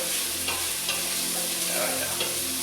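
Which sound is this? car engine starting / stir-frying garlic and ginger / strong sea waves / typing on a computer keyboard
stir-frying garlic and ginger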